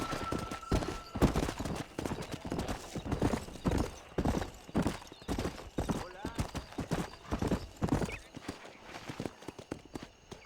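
Horses gallop with steady, loud clip-clop hoofbeats in the Red Dead Redemption video game, with a whinny and game voices speaking over the riding.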